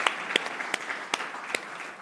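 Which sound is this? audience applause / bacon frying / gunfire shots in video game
audience applause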